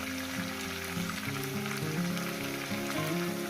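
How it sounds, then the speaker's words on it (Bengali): Potatoes frying in hot oil in a pan, with a steady, dense sizzle that stays loud and even throughout, with no talking over it. "সাত আট মিনিট এই আলুটাকে ভাজার মধ্যে দিয়ে দেবো"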